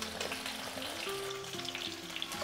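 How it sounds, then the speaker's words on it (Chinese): A fish head fries in increasingly hot oil in a clay pot for a sacha-flavoured dish, giving a steady, dense sizzle and crackle throughout, close and continuous with no voices. "鱼头放进来， 油温越来越高了"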